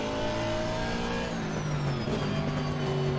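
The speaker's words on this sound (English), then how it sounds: "Engine's nice and powerful. Quite a raw producing sound, nice little pop on the upshifts as well." A race car engine in the sim racing game Assetto Corsa Competizione revs hard and continuously, with a raw, powerful note that climbs through the gears and a small pop on an upshift.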